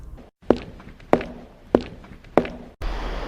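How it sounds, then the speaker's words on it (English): Four slow, evenly spaced footsteps thud close by against a quiet background, each step a distinct heavy tread, before a burst of broadband noise cuts in at the end. "I heard some footsteps."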